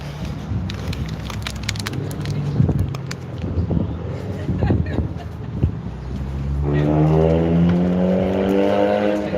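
Cars pass along a city street near Manchester City Hall, with traffic rushing by in uneven bursts, then a closer vehicle engine hums and accelerates near the end, under occasional speech.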